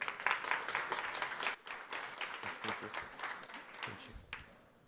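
A conference audience applauds panelists at a session on consumer storytelling, moderate clapping that swells, dips briefly, then tapers off toward the end.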